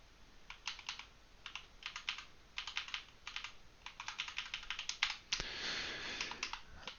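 Code being typed on a computer keyboard: bursts of fast, close key clicks in uneven clusters, ending with a brief wash of broader noise, with no talking.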